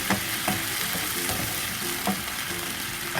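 Mung beans and raw banana for thoran are stirred and fried in a pan, giving a continuous close sizzle with repeated spatula scrapes and taps in an irregular rhythm.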